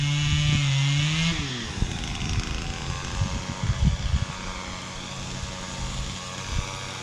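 Husqvarna top-handle chainsaw at close range, high fast idle easing down, then a rough, sputtering engine with uneven bursts, loud and continuous throughout.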